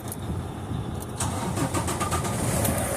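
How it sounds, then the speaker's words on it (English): A truck engine cranks and catches after its loose, dirty battery terminals are cleaned, then settles into a steady close idle. "my truck hasn't started that quick in a while"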